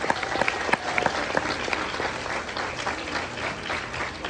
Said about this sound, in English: Another round of applause for our honorees and Commissioner Garcia,